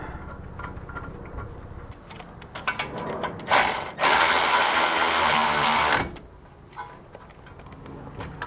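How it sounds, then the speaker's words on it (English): A hand ratchet clicks in quick bursts while tightening the lower brake caliper bolt on a Toyota 4Runner front suspension, building to a dense, loud run of clicks midway before easing back to sparse ticks. "I'm going to get the lower caliper bolt in too while I have the chance"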